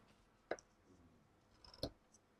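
Two crisp snips of scissors cutting ribbon for a hanging Christmas star decoration with poinsettia, close and quiet, with a soft rustle between the cuts.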